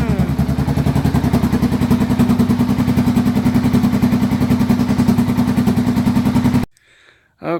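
A 2008 Suzuki S40 single-cylinder motorcycle fitted with an Emgo short reverse cone muffler idles close by, a steady loud, even thumping putter that stops abruptly near the end.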